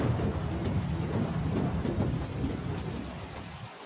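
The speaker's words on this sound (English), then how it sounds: "There's something about the steady patter against the roof, the way it transforms the world outside into a blur of gray and blue." Rain pours steadily on a roof while thunder rolls in a deep, loud rumble that slowly fades toward the end.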